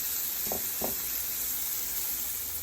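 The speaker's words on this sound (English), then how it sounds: "add those shrimp in. And kind of just brown them on each side a little bit." Shrimp browning in a hot pan for a shrimp and broccoli garlic sauce dish, giving a steady, fairly quiet sizzle and hiss throughout with a couple of brief soft clatters near the start.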